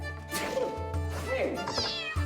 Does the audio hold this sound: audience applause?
no